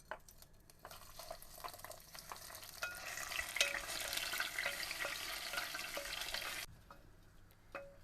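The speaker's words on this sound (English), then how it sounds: "we're going to saute the onions for a little bit" Onions sizzling in hot oil in a pot, a steady close frying hiss with stirring clatters and scrapes, ending abruptly near the end before a few quieter clinks.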